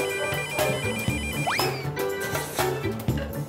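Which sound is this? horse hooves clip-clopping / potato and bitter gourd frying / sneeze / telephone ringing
telephone ringing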